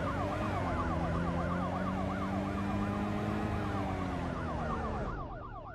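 Loud, continuous police car sirens in a Roblox taxi game, several overlapping wails sweeping up and down together, alone with no talk, easing off slightly at the end.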